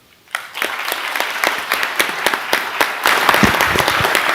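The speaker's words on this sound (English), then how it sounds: "Please join me in giving a heartfelt round of applause to our outgoing school board members," A school board meeting audience breaks into applause for outgoing board members, starting abruptly with distinct individual claps that thicken into steady, loud clapping and swell slightly near the end.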